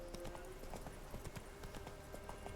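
Roach the horse trotting in The Witcher 3 video game, a steady rhythmic clip-clop of hooves close up, running continuously at an even pace with little else over it.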